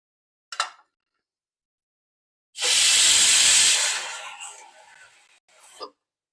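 A brimming pressure cooker of khichdi, cooked with plenty of water, gives a short sharp puff, then bursts into a loud, roaring hiss of steam and spitting water that gradually weakens and ends with a final sputter.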